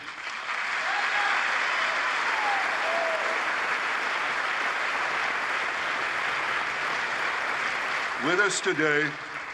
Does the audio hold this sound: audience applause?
yes